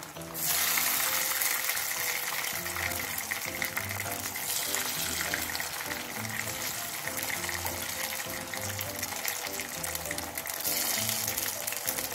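Small pieces of chicken kebab fry in a pan with a steady, loud, continuous sizzle, like rushing water, throughout, and some faint talk in the background.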